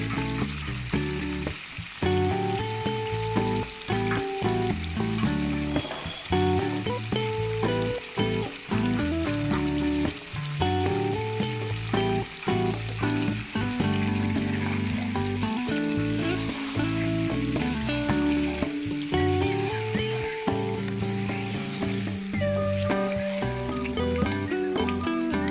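Chicken pieces and tomatoes fry in a pot for biryani with a loud, continuous sizzle and crackle, steady throughout and close, with no voices.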